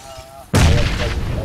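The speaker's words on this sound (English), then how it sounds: "Was that you shooting?" A single loud, booming gunshot from a shooter video game cuts in abruptly after a quiet stretch and rings out in a sustained rumbling tail.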